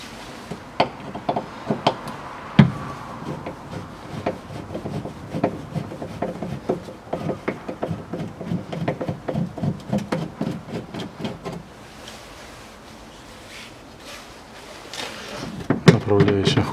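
A self-tapping screw is backed out of the door guide on a Range Rover Evoque 2.2, producing rapid close scraping and ticking with rubbing and knocks, then quieter handling noises.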